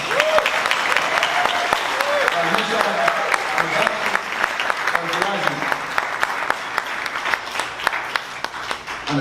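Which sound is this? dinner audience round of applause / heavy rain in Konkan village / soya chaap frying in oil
dinner audience round of applause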